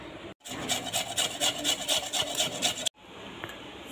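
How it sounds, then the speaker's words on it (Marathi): Two raw potatoes being grated on a hand grater in a home kitchen, a close, rhythmic rasping scrape of repeated strokes for about two and a half seconds, bracketed by short pauses. "हे बटाटे 2 कच्चे आहेत, त्याला छान असं किसून घ्यायचं। या किसणीवर किसून घ्यायचं।"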